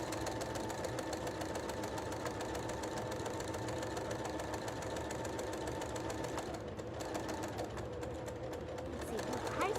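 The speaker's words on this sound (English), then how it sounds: "we're just closing up the bottom and sewing a straight stitch right where we just did the pinking" Sewing machine running a straight stitch to close the bottom of a fabric wine bag: a steady, continuous mechanical whir with a fast rhythmic tick, even and close throughout.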